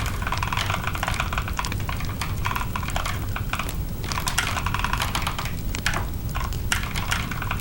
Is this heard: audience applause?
no